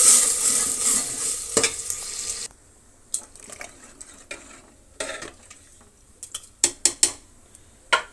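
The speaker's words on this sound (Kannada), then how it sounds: "ಈಗ ನಾವು ಕುಕ್ಕರಲ್ಲಿರುವಂತಹ ಎಲ್ಲ ಬೇಯಿಸ್ಕೊಂಡಂತಹ ಇಂಗ್ರೀಡಿಯೆಂಟ್ಸ್ ಎಲ್ಲ ಕೂಡ ಪಾತ್ರೆಗೆ ಸೇರಿಸ್ಬಿಡೋಣ." Cooked ingredients from a pressure cooker poured into a pot of sizzling fried onions for ridge gourd sambar, a loud frying hiss followed by scattered spoon clinks and scraping as it is stirred.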